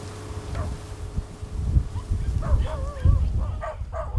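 Dogs on an island dumping ground for unwanted dogs give several short yips and whimpering barks, moderately near, over steady wind noise, with a faint low hum underneath.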